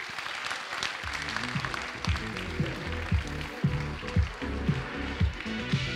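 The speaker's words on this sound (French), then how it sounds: "Sous vos applaudissements s'il vous plaît." Audience applause at a Master in Marketing graduation ceremony, continuous clapping from the hall underneath music with a pulsing low beat.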